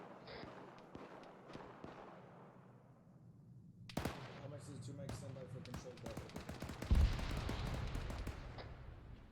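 A demolition charge goes off on a mortar pit in a military video game, a sharp loud blast followed by a scatter of distant gunshots and rumbling fire, with faint radio chatter underneath.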